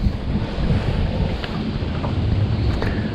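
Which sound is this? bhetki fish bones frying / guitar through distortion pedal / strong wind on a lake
strong wind on a lake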